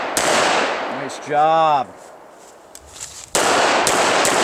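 Sharp pistol shots at an action pistol shooting event, a loud burst at the start and another near the end, with a short spoken remark between them.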